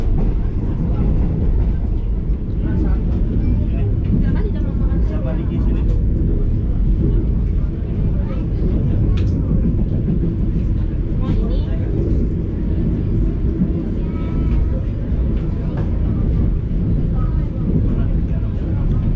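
Steady, loud rumble from aboard the Gunung Jati passenger train rolling through Dawan station, a continuous low roar with faint rattles and clicks, a voice speaking over it.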